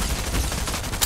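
Gunfire in the video game Fortnite, a dense burst of rapid shots over about a second, loud and close, with no talking.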